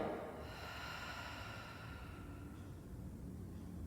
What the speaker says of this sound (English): exhale, creating that nice ocean sound